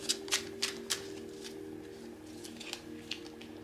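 Tarot cards being shuffled and drawn by hand, with several crisp snapping flicks early on and then softer, sparser card rustles over a steady low hum, close and with no talk.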